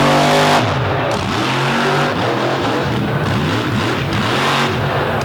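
Race truck called Sinistar at a Brooksville speedway season opener, fitted with a new bigger-cubic-inch, higher-horsepower engine, roars loudly and continuously past the crowd, the engine note rising and falling as it accelerates.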